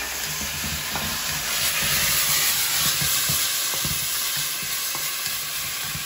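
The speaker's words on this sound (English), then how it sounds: "Just give it a quick stir fry and we're talking about 20 seconds" Beef and green pepper sizzle loudly in a hot stir fry, a dense, steady hiss with small knocks of stirring scattered through it, close up and alone.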